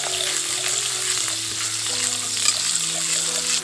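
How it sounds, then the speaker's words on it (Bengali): Chopped onion frying in oil for a fish dish, a loud, continuous close-up sizzle with occasional stirring scrapes throughout. "ওই তেলের মধ্যে দিয়ে দিচ্ছি পেঁয়াজ কুচি পেঁয়াজটাকে একটু ভালো করে ভেজে নিচ্ছি"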